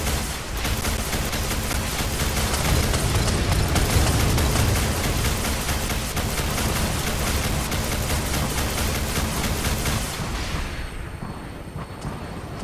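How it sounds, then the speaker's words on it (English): Napalm missiles fired from a Vertibird gunship in Fallout 4 (Pchela Vertibird mod) make a dense, continuous barrage of loud, rumbling blasts for about ten seconds, then fade into a thinner trailing roar. "napalm missiles"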